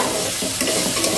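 Ginger, garlic, cumin and coriander fry in a hot pan for a Bengali cauliflower curry, a steady close sizzle with soft stirring scrapes, no voices.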